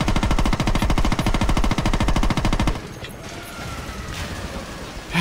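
A rifle in Saints Row 2 fires a long, steady stream of rapid automatic shots for about three seconds, loud and evenly paced, then cuts off into quieter background game noise.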